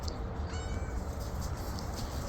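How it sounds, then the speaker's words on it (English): A cat meows on a city-yard farm with chickens around, one short, fairly faint call over low background noise. "There's the cat."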